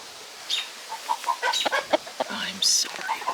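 Broody hen sitting on eggs gives close, irregular clucks and short squawks, with some sharper higher calls mixed in.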